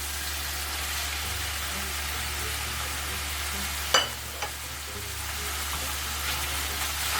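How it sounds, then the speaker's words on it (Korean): Sichuan dan dan noodle sauce ingredients fry slowly in a pan, a steady soft sizzle with one sharp utensil clack near the middle, no talk. "그래가지고 천천히 볶을 거예요"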